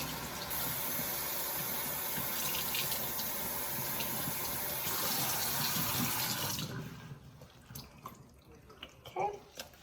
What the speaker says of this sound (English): I'm gonna give it just one more quick rinse because it is bubbly.